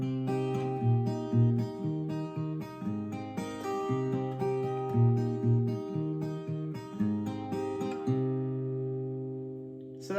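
Acoustic guitar plays the intro to the song at full speed, a flowing picked pattern of bass and treble notes ending on a long ringing chord; close and clear, moderately quiet, no talking.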